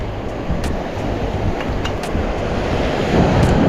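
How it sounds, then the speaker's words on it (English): Strong wind at a beach buffets the microphone in a continuous loud roar with gusty bursts, mixed with the wash of surf. "There's a lot of wind."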